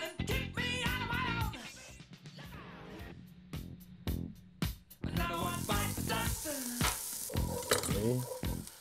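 Onion sizzles loudly as it fries in a pan for a ratatouille filling, a continuous crackling hiss with stirring scrapes, under steady talk from nearby voices.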